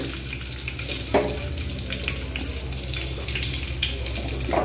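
Nigella seeds fry in a pan with a little water, making a continuous close sizzle with occasional small pops and spits.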